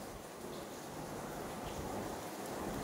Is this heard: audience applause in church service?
no